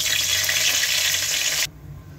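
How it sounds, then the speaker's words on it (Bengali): Bay leaves and dried red chillies sizzle in hot tempering oil, a loud steady frying hiss that cuts off abruptly near the end, leaving a faint low background. "এখন ফোড়নে থাকছে তেজপাতা আর শুকনা লঙ্কা।"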